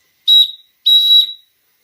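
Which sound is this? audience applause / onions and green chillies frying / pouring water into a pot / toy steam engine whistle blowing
toy steam engine whistle blowing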